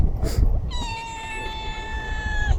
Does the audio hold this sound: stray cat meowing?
yes